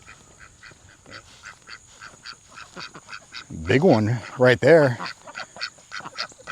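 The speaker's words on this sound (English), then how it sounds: "You got chickens and a couple ducks in there." Ducks and chickens in a coop, with loud honking quacks bursting out nearby in two or three strong calls, over softer clucking and someone speaking briefly.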